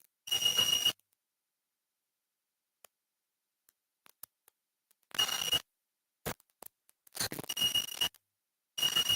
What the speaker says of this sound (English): We are controlling buzzer here with the moisture level.